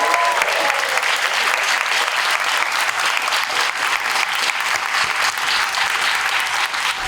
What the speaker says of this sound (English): please one last big round of applause for all of our awesome filmmakers